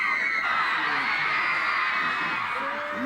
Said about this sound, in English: Up to 300 screaming girls maintained their vigil at the RTE television centre for over 3 hours.